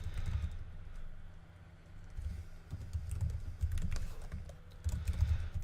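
Someone types JavaScript code on a computer keyboard: soft, uneven key clicks arrive in short bursts over a low background hum, close and fairly quiet, with no speech.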